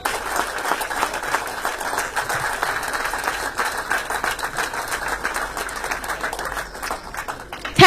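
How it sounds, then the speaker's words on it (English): A workshop audience gives the Chief Minister a standing ovation, with sustained applause from many people, fairly close and continuous, swelling and dipping slightly over several seconds. "I appreciate if we give our Chief Minister a standing ovation with"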